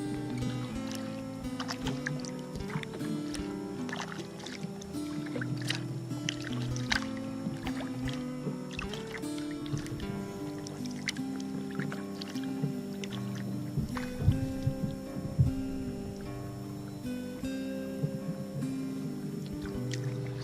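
Kayaks paddled along the Yadkin River on an afternoon camping trip, with soft water sloshes and gentle paddle strokes carrying steadily throughout, fairly close but not loud, with no talk.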